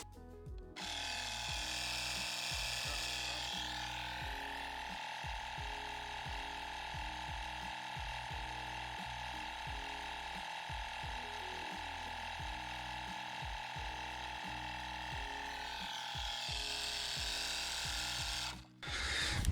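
An Osram mini air compressor from Lidl hums and chugs steadily while inflating a car tyre, a loud continuous motor drone with a rapid pulsing rhythm that stops near the end.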